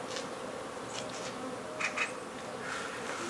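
Honey bees from a hive inside a wall hum in a steady, close buzzing drone, with individual bees briefly zipping louder past the listener.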